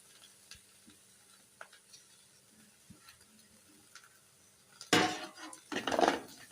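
Okra fry with grated coconut being stirred in a pan: quiet intermittent clinks at first, then two loud bursts of scraping and stirring with a faint sizzle near the end.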